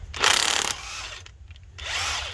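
A power tool whirs in short bursts while taking 19mm lug nuts off a 2011 Ford Explorer wheel, with two loud runs separated by a quieter pause, close by and without speech.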